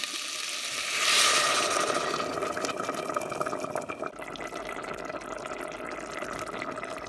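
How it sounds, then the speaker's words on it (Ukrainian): Warm water poured into a pot of salted potatoes, a close, steady splashing flow that swells early, then settles into a softer trickle. "тепер доливаю теплячу воду"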